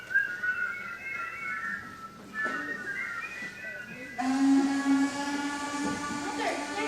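Sustained whistled tones from a stage musical scene, shifting pitch in a melodic line, with a brighter, louder held whistle arriving partway through amid background voices.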